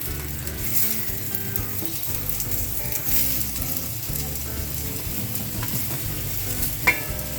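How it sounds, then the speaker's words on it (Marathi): Onion roasts in a little oil in a pan while a spoon scrapes and stirs it, giving a steady close sizzle with repeated rhythmic scraping and one sharp knock near the end. "हा कांदा पण आपण भाजून घेऊया"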